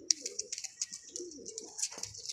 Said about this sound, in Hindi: बहुत ही घर के बहुत सियाने कबूतर हैं जी ये हमारे पास